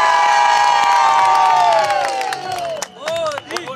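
An outdoor political rally crowd cheers and shouts loudly for a young girl, with high voices ringing together and scattered claps rising toward the end as the cheering breaks up.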